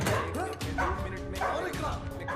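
A dog barks and yips in quick repeated bursts, close and fairly loud, mixed with whimpering tones.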